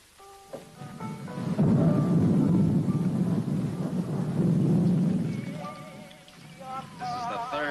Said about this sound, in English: it still hasn't stopped raining